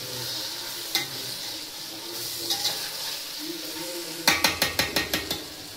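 Tomatoes cook in a pan for chicken biryani with a soft, steady sizzle, broken by a few scrapes and then a quick burst of sharp metal taps against the pan near the end.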